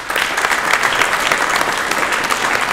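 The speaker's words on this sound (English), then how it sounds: "Can we give each other a big round of applause?" Thick, continuous applause from a crowd at a video game induction day, loud and evenly sustained throughout with no voices standing out.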